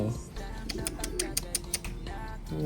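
Pigeons kept in a loft coo softly with a few short chirps, fairly close and moderately quiet, while a person talks in the background.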